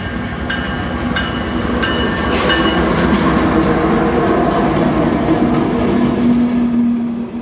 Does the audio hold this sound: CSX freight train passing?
yes